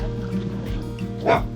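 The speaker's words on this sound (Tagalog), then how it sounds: "Aso tayo, aso." A dog gives a short bark or yip near the end, set against a low steady hum and background voices in a rural Philippine village.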